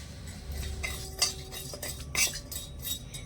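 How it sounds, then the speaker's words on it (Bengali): Spices being stirred and fried in oil in a pan, with metal spoon scrapes and clinks over a steady low sizzle, two sharper knocks standing out, nearby and moderately loud. "এবারে তেলের মধ্যে দিয়ে দিচ্ছি এই তরকাগুলো একটু নেড়ে ছেড়ে একটু লাল করে ভেসে নেব"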